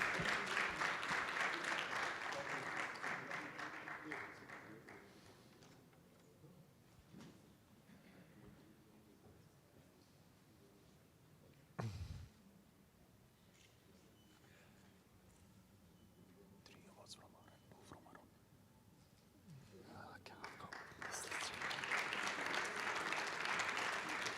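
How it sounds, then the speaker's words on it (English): Audience applause at a business awards event for a realtor of the year, loud at the start, fading into quieter murmur and scattered claps, then swelling again into full clapping near the end. "If everybody can please give him a big round of applause."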